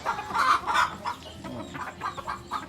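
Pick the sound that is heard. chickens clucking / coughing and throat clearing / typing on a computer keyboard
chickens clucking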